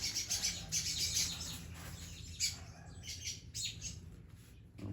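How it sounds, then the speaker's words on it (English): Wild birds chirp and tweet outdoors, with bright, repeated calls overlapping at moderate distance over a low, steady background hum. No one speaks. "The birds are getting after it."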